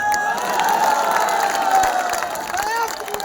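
Crowd at an outdoor Hindu religious rally in Orchha cheering and shouting continuously, a dense roar of many voices with whoops rising over it and scattered claps, loud and steady throughout.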